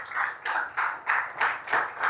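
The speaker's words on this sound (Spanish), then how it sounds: "Dale un aplauso al Señor." A church congregation claps together in time, about seven rhythmic swells of clapping in two seconds. The sound is moderately loud and has no talking over it.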